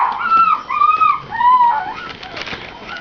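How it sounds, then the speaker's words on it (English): A Havanese puppy gives a run of high, thin yips and whimpering barks, about four drawn-out cries in quick succession, close and fairly loud with no talk over them. "Are you barking at me?"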